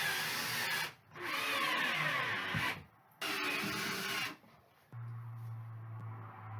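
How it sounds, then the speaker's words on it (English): A power screwdriver drives screws into acoustic plasterboard on a vocal booth in three long whirring runs separated by short pauses, the last run lower and steadier, with no voices. "Hopefully they'll be accurate enough to get the screws in"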